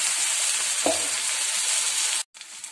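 Potato tikkis fry in a pan with a steady, close sizzling hiss, broken by a single soft knock near the start and a brief cut-out near the end.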